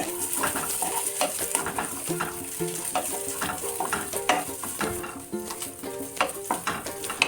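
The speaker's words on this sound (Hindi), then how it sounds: "अब हमें इसमें 1 चम्मच घी और डाल देंगे हम, और किशमिश को हमें थोड़ा सा सेक लेना है 1 से 2 मिनट" Raisins roasting in ghee in a pan, a steady close sizzle with frequent stirring scrapes and light clinks of a spoon against the metal, loud and continuous with no talking.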